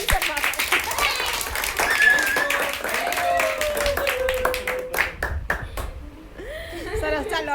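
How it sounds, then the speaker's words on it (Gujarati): Children at a birthday party clap together in a quick, scattered burst that thins out partway through, while voices talk over and after the clapping. "ચાલો બધા આના માટે તાળીઓ પાડો."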